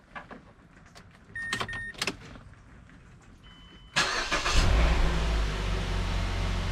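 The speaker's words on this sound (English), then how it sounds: "So I'm going to be starting up the engine." A 2013 Mazda 5 engine cranks briefly and fires up, roaring to life and then holding a steady idle, preceded by a few clicks and a short chime.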